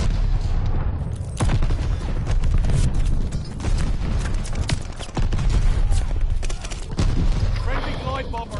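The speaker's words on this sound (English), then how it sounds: "Your teammate called an airstrike." Explosions and gunfire from a called-in airstrike in Call of Duty: Vanguard multiplayer, a string of loud booming blasts and rattling shots running throughout, with a voice talking over the chaos.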